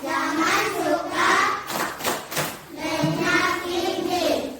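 A group claps a rhythmic anti-bullying chant, with bursts of clapping between stretches of voices chanting loudly and close by.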